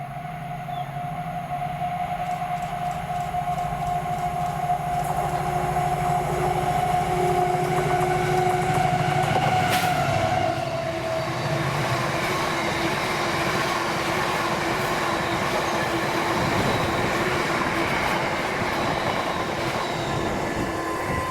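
A Colas Rail freight train, 6B36 from Aberdeen Craiginches to Oxford Mains Lafarge, rolls past at Balmossy at night with a loud, continuous rumble, wheel squeal and a rising clatter of wagons that stays strong to the end.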